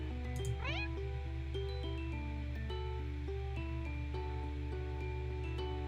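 A cat meows with a quick rising cry early on in the video game Purrfect Date, set over steady, bouncy game music that carries on throughout.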